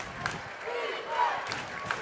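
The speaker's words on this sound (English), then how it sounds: "Crowd chanting defense" Crowd noise in a Minnesota high school boys basketball gym as Aitkin fans in red and black chant during a defensive possession against Crosby-Ironton, a steady, moderately loud roar with rhythmic swells.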